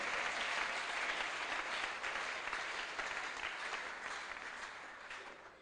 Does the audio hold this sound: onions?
no